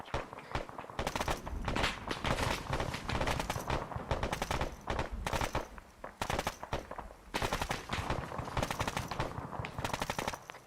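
Machine gun fire in the military shooter Arma 3, with loud, sustained automatic bursts rattling in rapid rhythm almost without pause, separated only by brief gaps.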